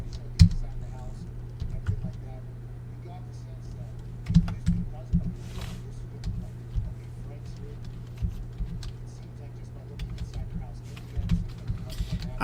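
A computer keyboard clatters in irregular bursts of quick keystrokes over a low steady hum, with voices talking at times.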